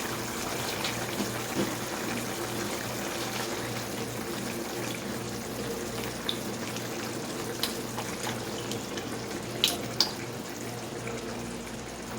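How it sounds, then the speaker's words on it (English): Coconut milk pours into a pan while cooking Bicol Express, a steady liquid rush and gurgle lasting several seconds with faint clinks. "so let's add our coconut milk"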